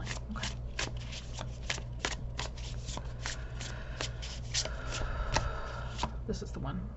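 Tarot cards are shuffled by hand in quick, repeated riffles and taps, close and quiet, over a low steady hum.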